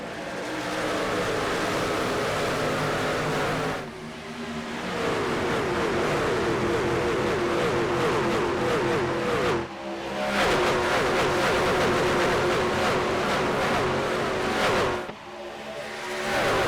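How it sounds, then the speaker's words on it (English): Race trucks at Kansas Speedway roar continuously as they accelerate, their engines climbing through the gears with brief dips at each shift, loud and dense with no talk. "As these trucks find gear number 4 on the backstretch"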